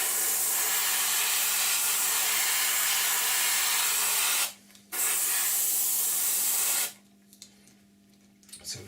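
Airbrush spraying paint onto a Revell 1/72 Transall model kit at high air pressure: a steady, loud, close hiss that stops briefly, resumes, then cuts off to near quiet.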